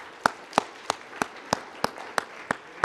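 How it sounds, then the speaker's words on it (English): Sharp, evenly spaced claps ring out at an event audience, about nine distinct hits over three seconds with a steady rhythm and no voices, sounding like a few people clapping slowly rather than full applause. "So please give yourselves a round of applause"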